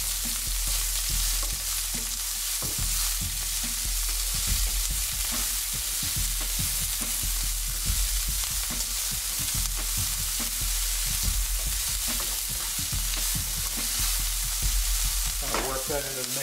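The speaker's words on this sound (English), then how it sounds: "So we just quickly stir fry them, and then we'll add the onion." Whole spices stir-fried in hot oil for a South Indian vegetable kurma, a steady close sizzle with frequent stirring scrapes running throughout, no voices.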